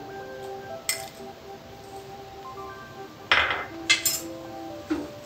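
A metal spoon stirring biryani masala in a cooking pot, with scattered clinks and scrapes against the pot sides, a few louder knocks near the end, and no talking.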